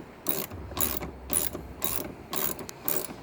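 Ratchet wrench tightening the backrest bolts on a 2017 Can-Am Spyder F3T, a series of quick clicking bursts in an even rhythm, close and fairly quiet, with no voices.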